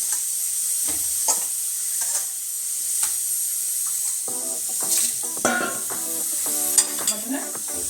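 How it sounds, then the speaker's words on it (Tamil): Mutton pieces being stirred into masala in a hot pan: a soft sizzle under repeated scraping, clattering spatula strokes that grow busier and louder in the second half. "மட்டன் போட்டு இப்போ நல்லா இதில் கிளறி விடுவோம்."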